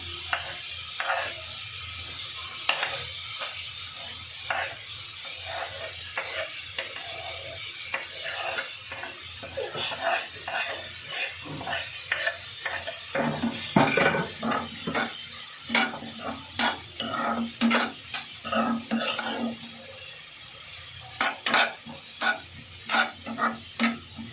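Onion, capsicum, cabbage and carrot fry together in a pan for momo filling, with a constant sizzle beneath frequent rhythmic scrapes and taps of a spatula on the pan, close and fairly loud.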